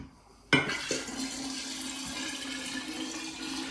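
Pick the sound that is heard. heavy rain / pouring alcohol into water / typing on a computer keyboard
pouring alcohol into water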